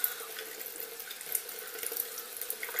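Running water from a faucet pours steadily over hair, wetting a strand before temporary pastel chalk is applied, a close, continuous splashing hiss with small fluctuations.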